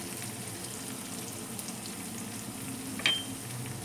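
Tomatoes, red chili powder and turmeric sizzle steadily in a pan over a low gas flame for fish curry, a continuous close frying hiss with a brief louder crackle near the end.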